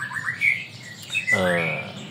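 A pet songbird kept in a cage gives scattered high chirps, then one louder, harsher call near the end, heard up close indoors.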